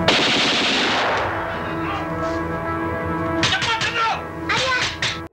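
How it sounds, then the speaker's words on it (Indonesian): Gunfire sound effect from a dramatized reenactment of the night soldiers attacked General Nasution's house, set under narration and music: a burst of sharp loud shots mid-clip, then a second rapid volley near the end. "Saat pintu dibuka, tembakan menyasar ke arahnya."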